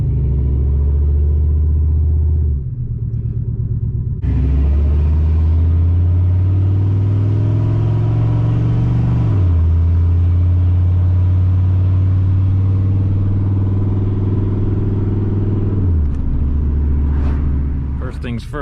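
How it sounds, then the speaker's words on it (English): A big single-turbo Ford F150 truck engine drives on a cold street, a loud steady close rumble that rises and falls through gear changes, with speech in the cab. "we got to go drive it a little bit before we really give it some gas"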